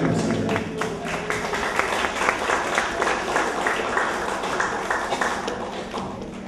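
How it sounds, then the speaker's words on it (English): Scattered applause rings out at a Celebrate Women in Uniform event, a few distinct nearby claps standing out over a broader patter of clapping, steady and fairly close, with faint crowd murmur underneath. "I'm getting applause, I think, from our national anthem singer"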